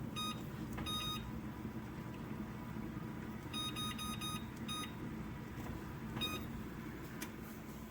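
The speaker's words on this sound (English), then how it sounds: "Set a 12-minute timer." A kitchen timer gives faint, high electronic beeps in short clusters of two to four, spread irregularly over a steady low background rumble.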